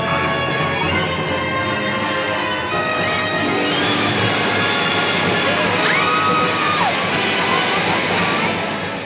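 A tidal wave water effect on a studio tour: loud rushing, sloshing water that swells and stays steady throughout, with crowd noise and voices mixed beneath it.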